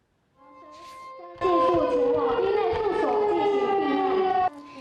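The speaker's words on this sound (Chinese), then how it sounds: "万安警报大声响" A loud, wailing air raid siren in Taiwan during a drill rises from a low drone into a sustained howl, holds steady for several seconds, then cuts off abruptly.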